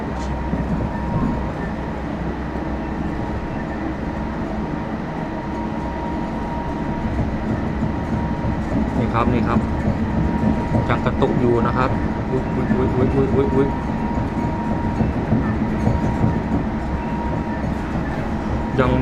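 Bangkok Gold Line electric train rumbling steadily over a track switch as it pulls into a station, with clicking wheel joints and brief squeals partway through, loud and close from inside the car while someone talks over it.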